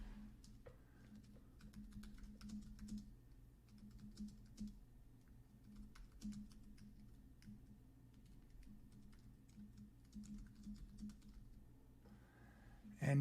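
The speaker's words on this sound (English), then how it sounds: "you can actually go into the window and type your message" Quiet, close clicking of a computer keyboard as a chat message is typed, with irregular bursts of keystrokes over a low steady background hum.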